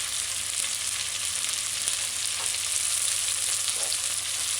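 Chicken stir-frying in a pan over a medium-high stove, a steady, loud hiss of sizzling oil with a few soft stirring scrapes, heard up close with no voices.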